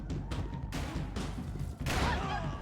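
Golden gun firing in Max Payne 3, a few sharp gunshot bursts with crashing impacts, moderately loud amid game noise, no talking.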